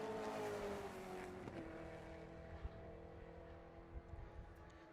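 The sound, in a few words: Toyota Corolla race car driving on track during qualifying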